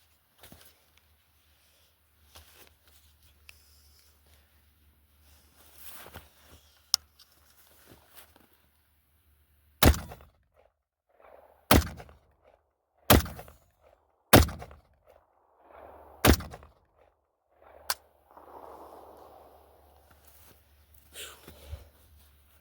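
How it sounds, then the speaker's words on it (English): Molot Vepr Hunter rifle in 7.62x54r fired into a tire outdoors, six sharp loud shots in an uneven series, with quieter handling noises in between. "I'm just going to shoot into that back tire there, just to put some rounds out, first shots"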